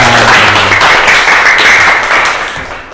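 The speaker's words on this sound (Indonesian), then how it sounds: "Oke, tepuk tangan dulu untuk kita semua." Loud, dense applause from a class of Islamic education teacher-training students in Medan, close and continuous, fading slightly at the end, with faint voices underneath.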